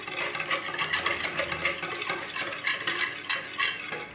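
Batter for a summer gooseberry pie being stirred with vanilla sugar, a steady run of soft scraping and clinking from a utensil against the bowl, close and continuous with no talk.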